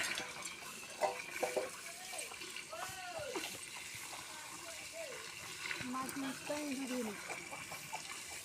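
Water splashes and gushes as containers are filled in the early morning, a steady wet rush close by with voices talking over it.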